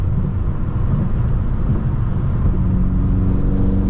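A BMW M6 engine drones heavily from inside the closed cabin on a cold drive, a loud, steady low rumble that holds without pause and swells slightly in pitch toward the end.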